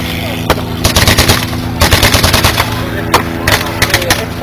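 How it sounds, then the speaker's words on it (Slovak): Small arms gunfire at a tank days battle demonstration in Trenčín: loud, rapid machine-gun bursts and single shots crackle in clustered volleys over a steady engine-like drone. "Dostávajú k slovu opäť ručné zbrane."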